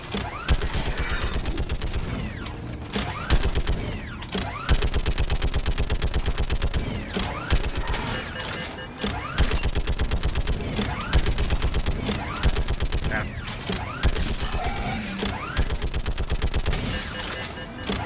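Heavy mounted gun blazing in Mass Effect 3, a loud, rapid, unbroken stream of automatic shots with mechanical clatter, pausing briefly every few seconds before resuming.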